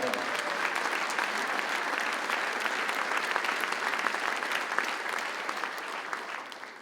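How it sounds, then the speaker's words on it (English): Steady audience applause for community band members fills the room, dense and sustained throughout before tapering slightly at the end, with no voices standing out. "Give them all a nice round of applause."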